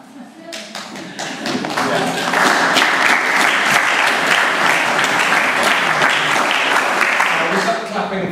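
Audience clapping breaks out at a formal speech event, building quickly from scattered claps into a loud, dense ovation that holds steady before easing slightly at the end.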